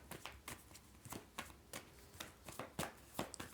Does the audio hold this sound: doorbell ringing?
no